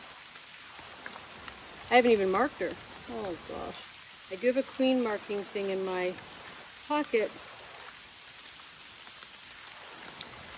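Steady rain falls on outdoor beehives while two nuc colonies are being combined with newspaper, a constant patter running through the whole stretch beneath intermittent close talking.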